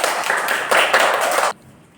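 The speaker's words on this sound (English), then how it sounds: "Clap your hands." Close, loud hands clapping in a classroom game, a burst of fast, dense claps from several children lasting about a second and a half before stopping abruptly into quiet.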